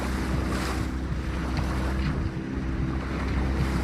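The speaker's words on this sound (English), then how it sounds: "there's not much wind, so we're motoring" O'Day 272 sailboat motoring under engine power near Santa Cruz Island off California, a steady low engine drone with water wash and wind noise running continuously and fairly close, with no talk.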